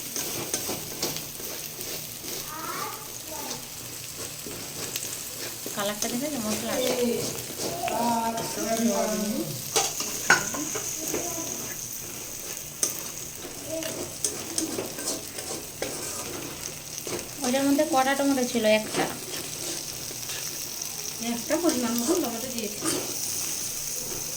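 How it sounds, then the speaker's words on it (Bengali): Turmeric and chilli spice masala stir-fried for crab curry, a close, steady sizzle with scraping stirs throughout, while someone talks over it at intervals. "হলুদ আর লঙ্কার দেওয়া হয়েছে মশলাটা ভালো করে কষিয়ে নিতে হবে"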